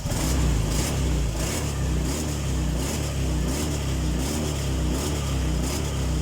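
A Honda Vario 125 scooter engine revs steadily and loudly nearby, a continuous droning hum with repeated swells as the throttle is worked, no voices over it.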